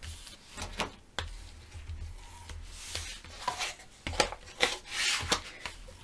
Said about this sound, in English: Fold and burnish.